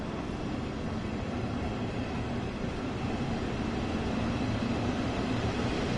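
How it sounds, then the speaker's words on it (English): A train idling at a station in Train Sim World 2 on the Hamburg–Lübeck main line, giving a steady, even rumble and hum that holds unchanged throughout with no voices. "There is already another train here going to Hamburg."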